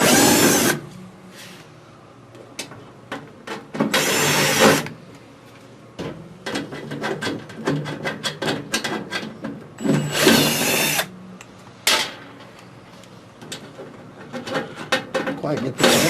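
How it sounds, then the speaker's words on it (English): A cordless drill or driver backs screws out of the flame screen of a Heat Surge electric fireplace, in repeated short whirring bursts with clicks and handling noises between them, up close. "We're going to remove the number of screws."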